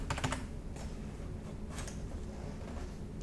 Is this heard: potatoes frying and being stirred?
no